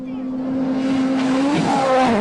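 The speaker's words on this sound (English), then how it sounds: "Let's watch Mikko Hirvonen over the jump" A Ford Fiesta RS WRC rally car with a 1.6 litre engine holds a steady high engine note as it flies over a crest in Mexico, then the pitch shifts and scrambles on landing, loud and close under commentary.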